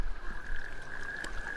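Swamp ambience in LittleBigPlanet 3, with frog croaking over a steady high insect-like drone and low background rumble, continuous and moderately loud, no voices.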